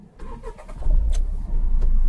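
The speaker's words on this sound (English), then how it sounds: "I have started the engine." A car engine cranks and catches, settling into a steady low rumble that grows louder; faint bird cooing sits in the background.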